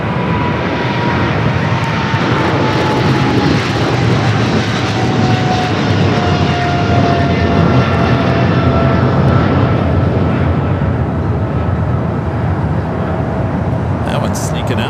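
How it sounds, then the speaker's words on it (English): A Japan Airlines Boeing 787-9 Dreamliner arriving at LAX, a loud steady jet roar with a slowly falling whine, heard together with constant chatter and traffic. "Japan Airlines Flight 62, the second flight of the day. Coming in from Japan, the 787-9 Dreamliner,"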